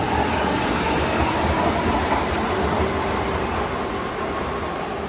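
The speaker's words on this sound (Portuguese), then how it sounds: "Daqui a pouco chega aí o metrô." Subway metro train at Carandiru station in São Paulo, a loud, continuous rumble with clattering wheels as it arrives and runs along the platform, close by and steady throughout with no talking.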